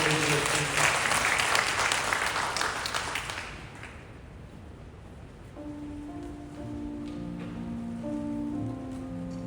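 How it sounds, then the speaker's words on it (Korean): A congregation in a church worship service applauds loudly and densely for about four seconds, then the clapping fades and sustained keyboard tones of the next song take over. "하나님께 감사 영광의 박수 올려드리며 찬양을 드리겠습니다."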